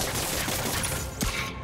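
Dense, continuous gunfire from Marvel's Spider-Man on PS4 during a street crime, a loud burst of rapid shots that fills the short moment without a break.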